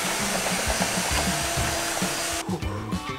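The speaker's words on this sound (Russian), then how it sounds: "Пару нажатий, и я услышал звук пылесоса." A smart-home vacuum cleaner runs with a steady, loud whirring hum throughout, with rhythmic bumps and scraping over it, and the noise drops off sharply near the end.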